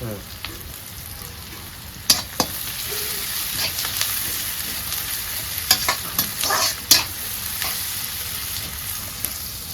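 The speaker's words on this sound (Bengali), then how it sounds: "মানে পেস্টটা একটু ভাজা হোক।" A spice paste for a tilapia fish curry fries in a pan with a steady sizzle, while a spoon stirs and scrapes it in sharp knocks around the two-second mark and again near six to seven seconds, heard close with no talk.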